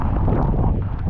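Hurricane Milton wind buffeting a microphone outdoors, a loud continuous low roar with rough gusting texture throughout.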